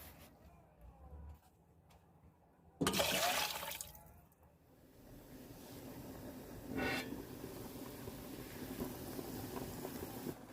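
Water is poured into a pot over beef bones in one loud, rushing burst lasting about two seconds. A quieter, steady liquid wash follows, with faint low noise in the background.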